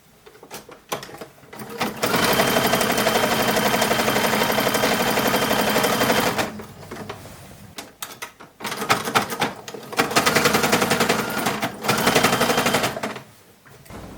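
A sewing machine stitches a collar onto a 1940s WWII staff assistance uniform with white thread, running in long loud steady bursts of rapid clatter separated by brief pauses.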